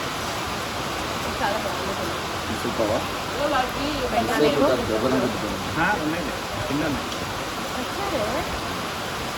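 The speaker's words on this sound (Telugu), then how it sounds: "చూడండి అసలు వర్షం" Rain falls as a steady, wide hiss during a trek, under people talking close by.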